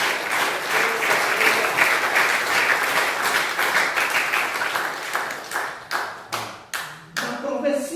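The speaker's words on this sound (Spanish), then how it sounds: "Den un aplauso a nuestro Dios con todo su corazón" A church congregation claps and applauds during a Spanish-language worship service, a loud sustained wash of many hands that thins toward the end into a few separate claps, with voices mixed in.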